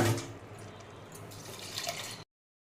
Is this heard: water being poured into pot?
yes